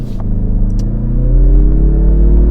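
A 2022 Mazda CX-30 Turbo accelerates hard at full throttle, a loud, steady engine drone with rising pitch that builds over a few seconds, with no talk over it.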